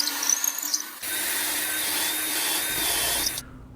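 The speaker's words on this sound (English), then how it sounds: "using a 1/4" drill bit to make those" A power drill with a 1/4-inch bit whirs loudly into wood, boring dowel holes for a chair, a steady high motor whine with grinding bite, starting after a brief scrape and stopping abruptly.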